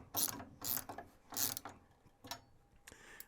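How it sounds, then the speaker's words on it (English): A socket wrench ratchets in quick bursts of clicks, paired with an Allen wrench, to tighten a bolt while a Nebraska Blades CS-201 sharpening machine is being assembled, then gives a few softer clicks. "We're putting our Allen wrench in and then turning our socket together."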